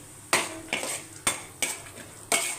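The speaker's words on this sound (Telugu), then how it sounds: "కొన్ని వేరుశనగలు సో ఇలా వేసేసుకొని వీటిని బాగా ఫ్రై చేసేసుకోవాలి" Peanuts fry in a tempering of spices in a pan for rava upma, with a spoon striking and scraping the pan in five sharp, evenly spaced clanks over a soft background sizzle.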